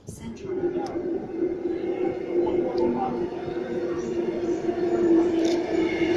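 A Sydney train rumbles along with a steady low drone and occasional high squeaks, heard from close by; no talking.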